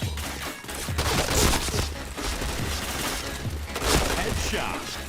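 Rapid bursts of video-game gunfire crackle across the clip in dense, overlapping volleys, with sharp impact-like snaps and a busy layer of game noise, and voices faintly mixed in.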